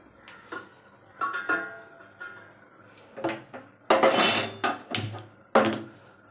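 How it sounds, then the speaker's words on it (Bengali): A metal wok is set down on a home kitchen stove, giving a few sharp metallic clanks and knocks spread across several seconds amid quieter kitchen clatter. "এই কড়া বসিয়ে দিই এবারে আমি।"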